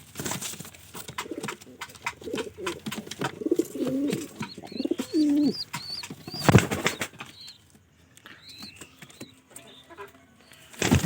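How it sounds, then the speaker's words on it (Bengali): Pigeons in a loft coo in soft, repeated throaty phrases amid frequent wing flaps and fluttering. Light chirps and rustling mix in close by. "এই দুটো কবুতর কিন্তু খুবই সাহসী।"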